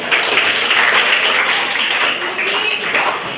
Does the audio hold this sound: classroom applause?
yes